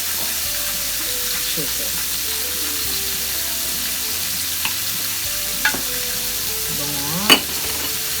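Bite-size chicken pieces seasoned with salt and pepper fry and get stirred in a pan for a creamy chicken pesto, giving a loud continuous sizzle with utensil scrapes and clinks near the end; a few spoken words briefly cut in.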